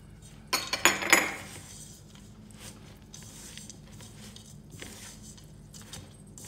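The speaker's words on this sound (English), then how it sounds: "Add your nuts." Nuts are added to a mixing bowl of Christmas pudding mix with cranberries, a quick cluster of clinking, rattling hits early on, followed by a few softer taps and quiet handling.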